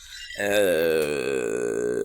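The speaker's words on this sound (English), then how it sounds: "I burp on command, but I say sorry after." A single long, loud voiced burp, about a second and a half of deep, rumbling eructation, heard close and alone.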